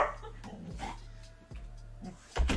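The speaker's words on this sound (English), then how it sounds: "Oh yeah, I already knew they were gonna bark." Dogs bark indoors in a few sharp, separate bursts over a low steady hum, with a louder yelp-like burst at the end and faint voices in the background.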